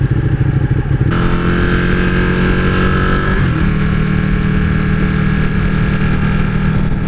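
Ducati 959 Panigale 955 cc motorcycle engine running loud and close, revving up and shifting gears around 4,000 RPM, the pitch stepping down at each change.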